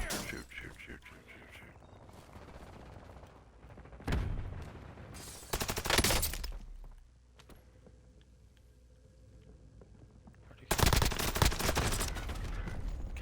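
Bursts of automatic gunfire from an STB 556 and a Vel 46 in a shooter game, sharp loud volleys around four, six and eleven seconds separated by quieter stretches with faint background effects.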